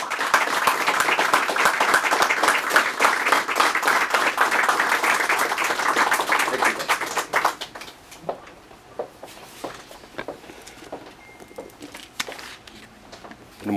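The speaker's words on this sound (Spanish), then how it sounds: "yo quiero pedir a este público amable un vigoroso aplauso de bienvenida para Antonio Ledesma" An audience at a book presentation gives a vigorous round of welcoming applause, dense and loud for several seconds before thinning to scattered claps and quiet room noise.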